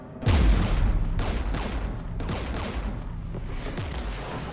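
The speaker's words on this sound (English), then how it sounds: "We're taking fire." Heavy gunfire in the Mass Effect 3 video game opens with a deep boom, then rolls into repeated blasts and a sustained rumbling barrage, loud and unbroken.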